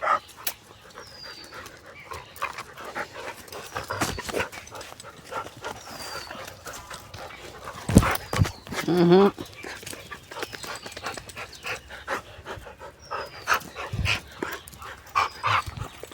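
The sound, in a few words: dog barking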